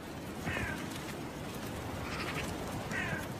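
Crows caw in short harsh bursts, three separate calls spaced about a second apart over a steady windy background, from a group following a hunting sea eagle along a wild coast.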